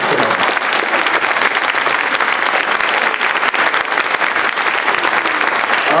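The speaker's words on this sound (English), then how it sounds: "how about a round of applause for our panelists today?" Loud, steady applause from a large audience for a panel at a concert event at the Scottish Rite Masonic Museum, dense clapping sustained throughout without any voices standing out.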